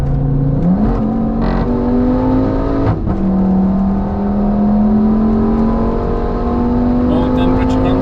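A 900 hp V10 Audi RS6 Avant C6 accelerates hard on the Nürburgring, heard loud from inside the cabin. The engine howl climbs in pitch, drops at quick gear shifts, then pulls up again.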